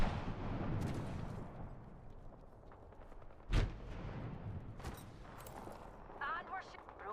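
Gunfire crackles through a video game shootout in bursts of sharp shots, with one loud blast standing out, over continuous busy game noise and a speaking voice.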